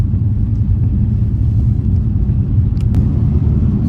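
A BMW M2 CS accelerates hard up a hill on the road, giving a loud, continuous deep engine rumble with no talk over it.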